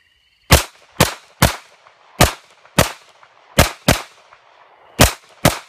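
Nine sharp, loud pistol shots from a Glock fired in low light at a range, spaced unevenly about half a second to a second apart, each with a short ringing tail and quiet in between.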